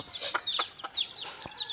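Free-range country chickens clucking as they are fed rice in the morning: several close, overlapping clucks and short calls in an irregular rhythm, fairly loud and with no talking.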